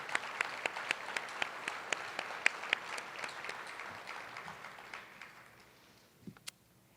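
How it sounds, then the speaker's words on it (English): A breakfast audience claps, a steady scatter of many hands with a few sharp nearer claps, tapering off gradually into quiet with a couple of last isolated claps. "we can all clap now"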